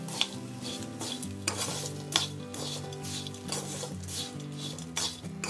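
Papad crumbs are stirred into onion chutney in a pan after the gas is switched off, giving a rhythmic scraping and stirring with soft metallic clinks and a faint sizzle, close and fairly quiet.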